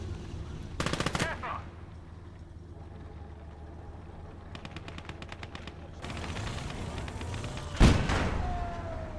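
Twin MG34 machine guns in the Call to Arms: Gates of Hell video game fire several rapid bursts of rattling shots at moderate distance, set among other battlefield noise and a sharp nearby crack near the end.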